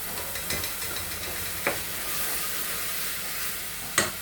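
Meal maker soy chunks sautéing in a pan for beetroot biryani give a steady, close frying hiss, broken by a few sharp scrapes of a spoon against the pan.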